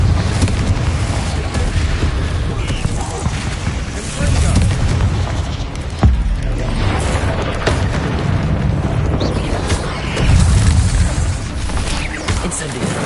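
Bombarda and Confringo spell explosions in the video game Hogwarts Legacy, repeated loud booms and blasts layered over a constant roar of combat effects, with voices mixed in.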